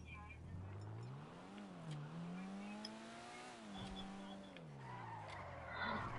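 A Vapid Retinue car in a video game drifts with a long, wavering tire squeal over a revving engine, loud and continuous, while players talk over it.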